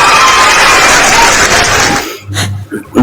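Audience applause for a woman pastor at a relaxed heart-to-heart dialogue event, a dense, loud wash of clapping that fills the room for about two seconds, then cuts off abruptly into quieter voices and a short low hum.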